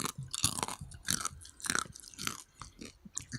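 Crunchy chocolate candies such as Smarties being chewed close up: a rapid, irregular series of sharp crunches and bites, quiet overall, heard alone without talk.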